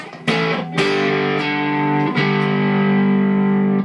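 Electric guitar through a Fender Super Sonic amp's distortion channel, several sustained chords struck in turn, each ringing out thick and gritty with a fuzzy edge.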